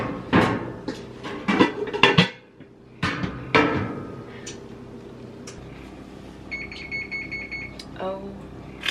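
A cooking pan is hunted for in a home kitchen, with several sharp metallic clanks and knocks close by, then a quieter lull and a short repeated electronic beeping near the end.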